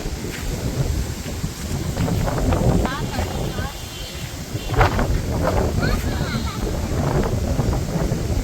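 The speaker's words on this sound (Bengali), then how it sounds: "একটা সময় খুব ভালোই ঝড়ি বাতাস উঠছাল, এখন আবার একটু কমছে।" Strong stormy wind blows during a heavy village rainstorm, a continuous rough buffeting roar that lasts the whole time, with a hiss of rain mixed in and faint voices in the background.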